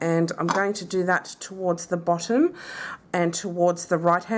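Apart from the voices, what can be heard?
No distinct noise like a dog, phone or traffic.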